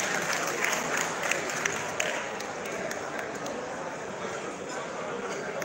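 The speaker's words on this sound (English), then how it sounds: "she deserves a big round of applause," A crowd at a birthday celebration applauds steadily, a busy wash of clapping with hall noise and a few louder claps, easing slightly over the span.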